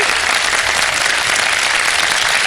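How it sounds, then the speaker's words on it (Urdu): A dense, steady wash of studio audience applause fills the whole stretch, loud and sustained, for the winning second aunty at a televised Ramadan iftar game show. "سیکنڈ والی آنٹی کے لیے بہت ساری تالیاں ہو جائیں جی ایک بار پھر."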